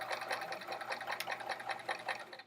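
A sewing machine runs steady top stitching on a pencil pocket for a travel art folio, a close, even rapid needle chatter that carries on alone and without pause.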